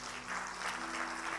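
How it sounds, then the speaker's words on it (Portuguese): A church congregation claps strongly in a brief burst, a dense wash of applause filling the room, steady and fairly distant with no voices standing out. "dá um aplauso bem forte ao Senhor."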